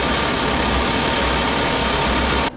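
A 5th wheel travel trailer heater running and blowing warm air, a steady loud whooshing fan rush with a low motor hum, continuous and close until it cuts off at the very end.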